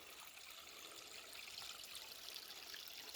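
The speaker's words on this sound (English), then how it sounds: "They like cool, fast-flowing water." A cool, fast-flowing mountain stream rushes and trickles nearby, a steady, even wash of water noise with no voices and no pauses.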